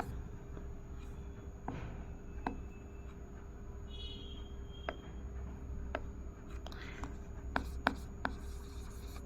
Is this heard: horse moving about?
no